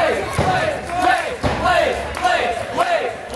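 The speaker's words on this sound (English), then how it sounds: "Crowd chanting the name of Michael Blais as he unwrapping that tape" A wrestling crowd at a Summer Heat 2014 match chants Michael Richard Blais's name in a loud, rhythmic, repeating call, several waves of voices rising and falling across the arena.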